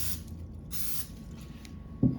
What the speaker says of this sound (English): grease your pie pan using either butter, oil, or cooking spray like I am